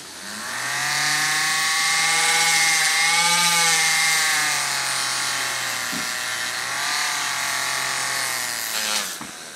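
A motorized strop wheel spinning at 10,000 RPM, a loud, steady high-pitched whine that rises and falls slightly as a tool is held against it, briefly interrupted near the end.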